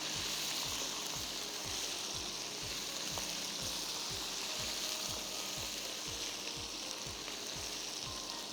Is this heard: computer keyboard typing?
no